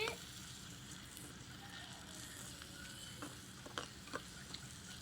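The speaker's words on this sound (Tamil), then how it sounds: "இப்போ தக்காளி போட்டாச்சு" Tomatoes sizzle quietly in a pan for a capsicum curry. A soft, steady frying hiss carries a few light clicks of a utensil near the end.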